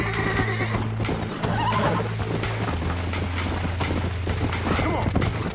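A horse in the video game Red Dead Redemption whinnies loudly, with hoof clip-clop and a low in-game hum underneath. A few faint thumps are also audible.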